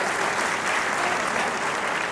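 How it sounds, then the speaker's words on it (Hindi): Audience applause at a Hindi comic poetry recital (kavi sammelan) in Takhatpur, Bilaspur, a dense, even burst of clapping from a crowd that holds steady throughout. "जोरदार ताली बजा।"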